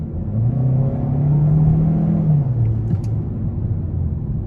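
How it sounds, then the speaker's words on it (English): A 2022 Hyundai Sonata SEL Plus with a 1.6-liter turbocharged four-cylinder accelerating, a loud steady engine drone rising smoothly in pitch and then easing off, heard from inside the car. "So really good acceleration there."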